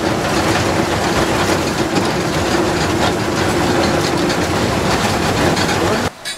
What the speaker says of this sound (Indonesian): kereta-kereta lori yang sudah penuh muatan tebu dan akan disambung oleh lokomotifnya